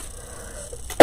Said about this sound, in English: I just have a dry cough today